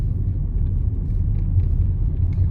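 A car engine on a driving test route in Sidcup, slowing for a turn and shifting down to second gear: a steady, close, low rumble with no talk over it.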